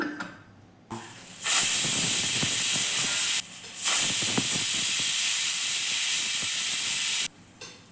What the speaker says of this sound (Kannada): ಈಗ ನಾನು ಇದಕ್ಕೆ ಮುಚ್ಚಳವನ್ನ ಮುಚ್ಚಿ ಎರಡು ವಿಜಲನ್ನ ಕೂಗಿಸ್ಕೊತೀನಿ